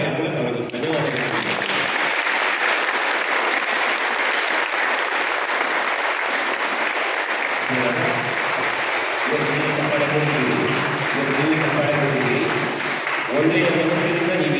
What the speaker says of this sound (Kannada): ಜೋರಾದ ಚಪ್ಪಾಳೆಯ ಮೂಲಕ ಅವರಿಗೆ ಧನ್ಯವಾದಗಳು